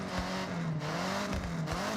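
Car engine revving in the racing video game Forza Horizon 6, a quiet, steady engine drone with a wavering pitch and no talk over it.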